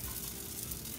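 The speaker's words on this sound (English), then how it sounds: "I love that sizzle" Food sizzling steadily in a pan coated with nonstick spray while cinnamon cereal fuel bites cook, a continuous close frying hiss with no talk.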